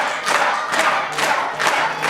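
Wrestling arena crowd roaring and cheering in loud surging waves, swelling and easing several times in quick succession with a few cries rising above the din.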